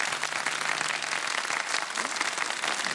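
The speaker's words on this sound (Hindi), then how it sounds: "तालियां बजा दें भाई, अच्छा खेला आपने भाई" Studio audience applauds a contestant on a Ramadan quiz show, a steady, dense wash of clapping that holds at an even level for the full few seconds with no voices over it.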